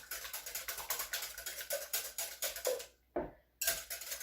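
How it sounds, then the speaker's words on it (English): Eggs being beaten with a whisk in a bowl for a French onion tart, a fast steady clatter of wire against the bowl that breaks off briefly near the end and then resumes, close and moderately loud with no talking. "Before I do the cream, I'm going to beat my eggs a little bit."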